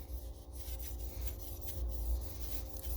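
A steel knife blade from a hand-forged San Mai chef knife is scrubbed back and forth to strip oxides, giving repeated close, raspy rubbing strokes at an even rhythm, with no voices.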